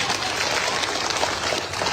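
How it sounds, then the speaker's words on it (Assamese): A crowd at an outdoor political rally claps steadily, a dense even wash of applause for the whole short stretch with no pauses. "আৰু এটা হাত তালি বজাবলৈ অনুৰোধ কৰিলে মই সকলোকে"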